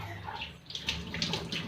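Splashing water sounds as someone rinses a face washed with a rice-flour home skin-care paste, a series of soft, close splashes over a steady background hum with no talking.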